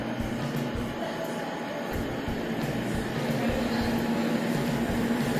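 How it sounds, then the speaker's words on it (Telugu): An MMTS-style glass-interior passenger train pulls out of Karimnagar railway station, bound for Nizamabad, with a steady rumbling and humming drone that holds even and continuous throughout, without voices. "సో ట్రైన్ స్టార్ట్ అయ్యి చూడండి."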